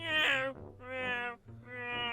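A cat meows loudly and repeatedly, three drawn-out, harmonically rich wails with short gaps between, close and grating, with no talk over them.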